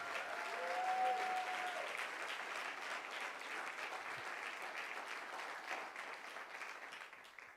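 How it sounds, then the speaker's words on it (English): An audience at an awards ceremony applauds 2007 honorees, sustained clapping from a crowd filling the room at moderate level and slowly tapering toward the end. "Another round of applause for our 2007 honorees."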